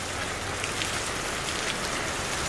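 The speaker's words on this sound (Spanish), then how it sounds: "Está lloviendo" Steady rain falls outdoors at a plant nursery, a dense, even hiss of drops pattering on surfaces that holds constant throughout with no voices.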